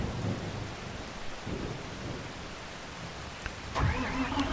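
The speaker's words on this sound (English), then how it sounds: "rain hit us" Rain and rumbling thunder in the Farming Simulator 25 video game, steady rainfall hiss with low thunder rolls and a sharper crack near the end, no talking over it.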